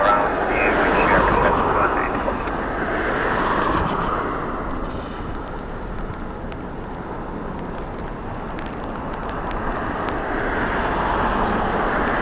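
An airliner going around at Dublin Airport on runway 16 in gusty crosswind, a loud, broad engine roar that swells early, eases through the middle and builds again toward the end.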